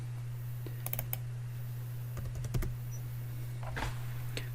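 A few light keystrokes click on a computer keyboard in scattered short bursts, faint over a steady low electrical hum.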